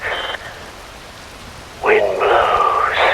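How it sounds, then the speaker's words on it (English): Steady rain falls with a soft hiss, briefly joined by louder bursts of brighter, splashy noise, under ambient texture with no voices. "Rain falls."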